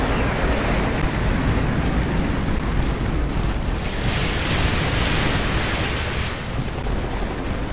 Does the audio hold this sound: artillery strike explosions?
yes